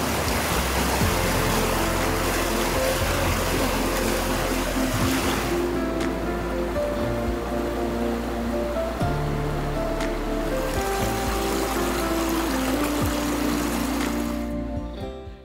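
Avalanche Creek in a cedar forest in Glacier National Park rushes steadily along as a broad, continuous roar of flowing water, close and loud, with no voices over it, before fading out at the end.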